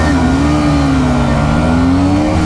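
Yamaha R15v3, Suzuki Gixxer SF250 and KTM Duke 250 motorcycles accelerating away together in a road race, a loud continuous engine roar with a droning rising note, close and alone with no talk.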